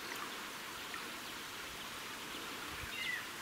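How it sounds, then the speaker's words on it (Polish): A strong current flows over a weir on a wild, free-flowing river, giving a steady, soft broadband rush of water that stays constant throughout, with no voices. "Ładny przelew, ładny prąd."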